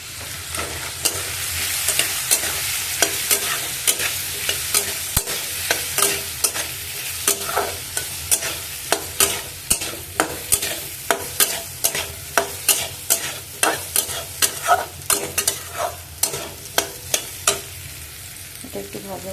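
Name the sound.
food frying and being stirred in a pan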